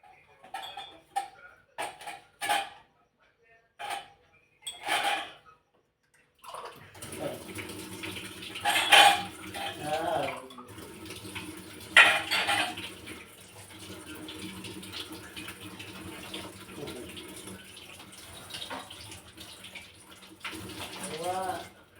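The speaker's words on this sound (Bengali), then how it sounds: "চা টিফিন খাওয়া বাসন আছে দুটো, মাজবো।" Used tea and snack dishes being scrubbed and rinsed under running water, with a steady tap flow and clinking utensils after scattered earlier clatter, as someone talks.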